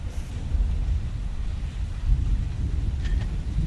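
Rain pours steadily with deep rumbling thunder rolling under it, a broad continuous wash of outdoor storm noise, steady and fairly loud with no voices.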